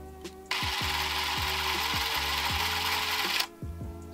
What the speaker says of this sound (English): Now let's check to see if the camera runs.